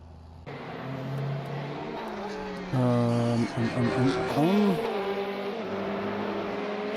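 An LMP2 prototype race car in a racing game at Spa, its engine note rising and shifting through gears as it approaches and passes, over a steady background engine drone.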